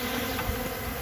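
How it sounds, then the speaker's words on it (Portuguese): Mandaçaia da Caatinga stingless bees hum in a dense, continuous buzz, close and steady with no voices. "aqui a mandaçaia da Caatinga, das abelhas mais belas do planeta"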